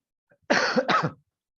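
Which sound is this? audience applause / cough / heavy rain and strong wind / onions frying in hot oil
cough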